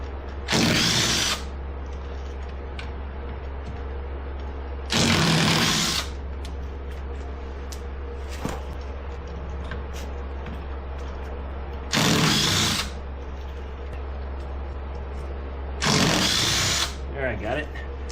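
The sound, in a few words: power tool removing four bolts on 2009 Polaris Ranger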